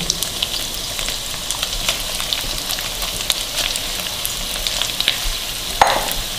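Julienned chicken strips fry in a pan with sautéed onions, giving a constant crackling sizzle broken by frequent small clicks and scrapes of stirring and a sharper knock near the end, without any talking.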